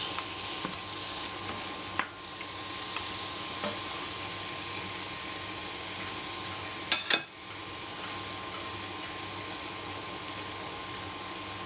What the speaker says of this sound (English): you want to fry that for a while, about 4 minutes